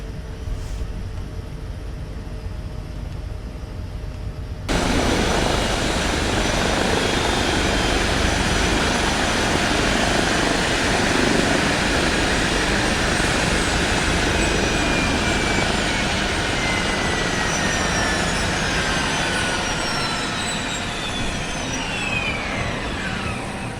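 An H160 helicopter in Microsoft Flight Simulator 2020 whines and roars steadily at close range after a sudden jump in level, turbine tones slowly sliding downward as the engines spool down.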